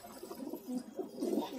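Soft, low pigeon cooing at a pigeon market near Jama Masjid, Delhi, repeats in gentle rolling phrases over a light background hiss.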